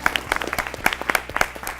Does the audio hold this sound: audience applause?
yes